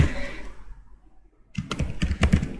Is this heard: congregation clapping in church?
no